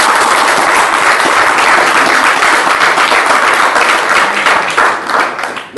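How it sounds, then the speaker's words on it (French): A church congregation applauds in a dense, loud, sustained wash of clapping that fades slightly toward the end. "Applaudissons pour le Seigneur."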